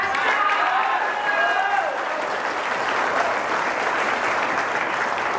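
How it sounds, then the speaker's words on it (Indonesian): An indoor audience at a PT BEST company business event breaks into loud, sustained applause, with dense clapping and crowd noise filling the whole stretch at a steady level. "Aplaus buat PTB."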